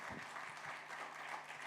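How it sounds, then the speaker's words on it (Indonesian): A church congregation applauds at a GPdI thanksgiving service, a steady, fairly distant wash of many clapping hands that continues throughout. "Kasih tepuk tangan yang meriah."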